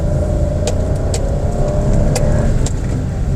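A 2022 Toyota Raize with a 3-cylinder engine pulls away in first gear, giving a steady, loud, continuous engine drone with a gentle rise in revs and a few faint clicks over it.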